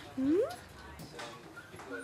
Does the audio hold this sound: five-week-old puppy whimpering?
yes